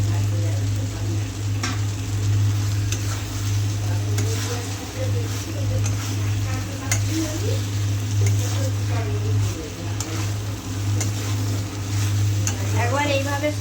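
Pre-fried soya chaap pieces go into a pan and are stirred, so oil sizzles steadily under clinks and scrapes of the spatula, with a low hum beneath. Someone speaks briefly partway through.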